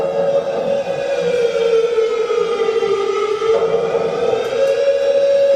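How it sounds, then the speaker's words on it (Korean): A loud air raid siren wails continuously during a real air raid alert on Yeonpyeong Island, its steady tone wavering slightly in pitch throughout, with no other sounds. "사이렌이 울립니다."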